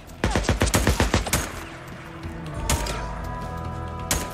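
Rapid burst of gunfire from the video game Days Gone, a quick run of sharp loud shots in the first second and a half, then a lingering echoey tail with a few scattered later cracks.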